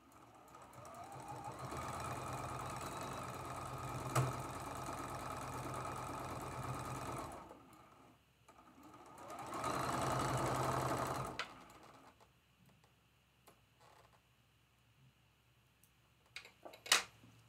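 A sewing machine stitches a quilt block seam in two sustained runs, the second shorter, separated by a brief pause, then goes quiet apart from faint handling clicks and a sharp tap near the end.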